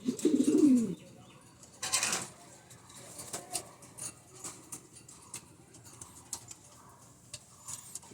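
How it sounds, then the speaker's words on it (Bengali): Racing pigeons in a keeper's flock give a clear, fairly close coo at the start, followed by a short burst of wing flapping. Soft rustling and patter continue afterward, with no talk. "এই যে আমার মাদি কবুতরটি"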